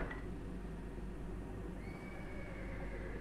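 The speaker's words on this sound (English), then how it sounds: "I hear a horse as well." A horse whinnies once in a haunted Santa Claus home-safety horror game, a faint, brief neigh over a steady low background hum, with no talk.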